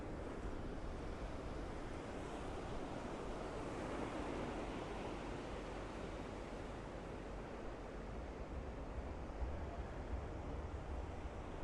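Ocean surf at low tide rolls in as a steady, faint wash of broadband noise with wind, unbroken for the whole stretch and with no voices.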